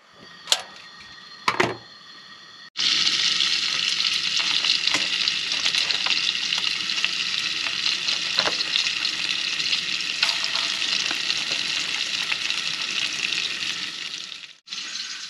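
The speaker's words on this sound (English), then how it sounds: "Okay, they've been frying for about 2 minutes." Fish fry in bacon grease and butter in a pan, a loud, dense sizzle that bursts in after a few clicks and holds steady before cutting off near the end.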